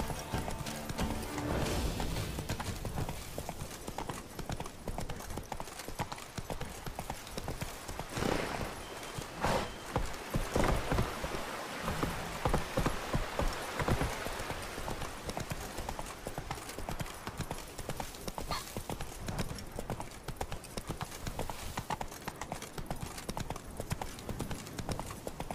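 Roach, the horse in the video game The Witcher 3, clip-clops along in a steady rhythm of hoofbeats, close and clear, with an occasional whinny and a few faint words spoken over it.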